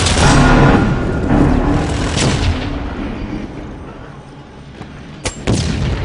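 Heavy booming blasts and crackling impacts of a video game null cannon strike rumble loudly, fading into a quieter stretch before a few sharp hits return.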